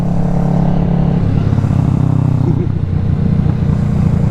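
A motorcycle is ridden along twisty roads, its engine humming and droning steadily with a slight shift in pitch, loud and close over constant wind rush.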